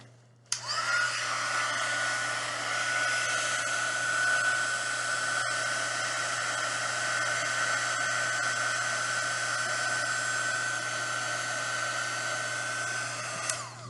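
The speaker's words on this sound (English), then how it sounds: "I'm going to take my heat gun." Heat gun blowing hot air over epoxy on a sand-covered beach scene, switching on with a click and running as a steady, whining, close rush of air for over ten seconds before cutting off.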